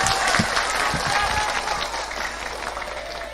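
Applause from an audience at a Maulid Nabi religious gathering, a dense wash of clapping that starts strong and gradually fades, with some voices murmuring underneath.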